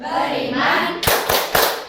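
A classroom of eighth-grade pupils chants the Tepuk Pancasila, ending with three sharp, evenly spaced group claps after a spoken line, close and loud.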